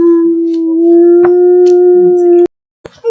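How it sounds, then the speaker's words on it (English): A dog howls in one long, steady, loud wail close by, with a brief whimper near the end. "he's done howling and whining and crying because he misses Dad."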